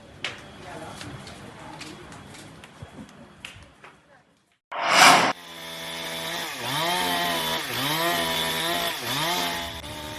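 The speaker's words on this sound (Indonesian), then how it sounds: "Menggunakan gergaji mesin, petugas keamanan dan ketertiban atau Trantip Kelurahan Batu Ampar, Balikpapan Utara ini berupaya memotong dahan dan batang pohon yang tumbang" Public order officers in Batu Ampar, Balikpapan Utara, use a chainsaw to cut the branches and trunk of a fallen tree. A voice talks first, then after a brief pause the saw starts loud and close, its engine revving up and down repeatedly.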